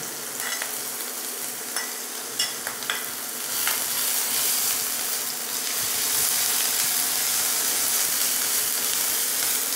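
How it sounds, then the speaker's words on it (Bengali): Onion and green chillies fry in a pan, with a few scraping stirs at first before a dense, steady sizzle builds and carries on, close and loud, with no talk. "এবারে এখানে পেঁয়াজটাও ভাজা হয়ে গেছে, আদা রসুনটা ভাজা হয়ে গেছে"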